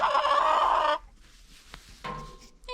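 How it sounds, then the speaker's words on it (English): Chickens in a backyard flock cluck and call loudly and close by for about a second, followed by quieter scattered clucks and scratching sounds. "And of course, chickens love to scratch around"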